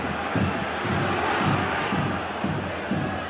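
A home football crowd at a Kilmarnock ground groans and jeers in annoyance, a dense roar of many voices with rhythmic swells, steady and fairly loud throughout.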